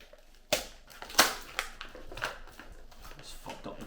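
Paper packaging of a Kilian Old Fashioned perfume gift is torn and crumpled close up, a few sharp rips followed by softer crinkling and rustling.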